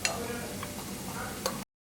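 Spice powders mixed with a little water in a pan, heard as a short, close, wet stirring and scraping with a couple of light clicks before it cuts off abruptly.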